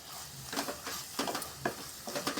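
Onion-tomato masala for chana masala fries in a pan while a spoon stirs it, giving soft, steady sizzling broken by several quick scraping strokes up close.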